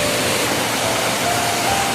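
Ruma Gadu waterfall pours in a loud, constant broadband rush of falling water, close and steady without a break.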